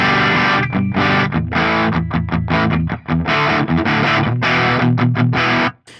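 Loud, heavily distorted electric guitar through an Axe-Fx III Dallas Arbiter Fuzz Face fuzz model, playing chugging chords in bursts with brief gaps, fuzzy and saturated, ending abruptly.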